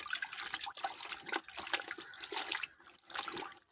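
Footwear being washed under water, an uneven close splashing and trickling with bursts of running water and short pauses.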